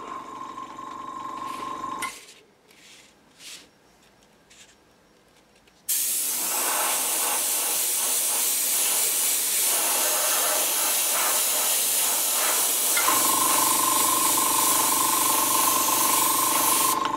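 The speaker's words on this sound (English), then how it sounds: "The trick is, don't move the stencil while you're painting." Aerosol spray paint hisses steadily through a dungeon-tile stencil on a board, with brief bursts early, then a long continuous loud spray lasting about eleven seconds.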